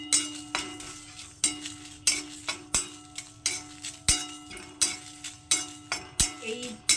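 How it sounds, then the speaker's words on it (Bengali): Cloves, whole fennel seeds and three dried red chillies dry-roasting in an oil-free pan, with a steady run of light scraping and clinking from a utensil stirring the spices, in rhythmic repeated strokes close by. "তো এগুলোকে আমি একটু হালকা শুকনো খোলায় ভেজে নেব।"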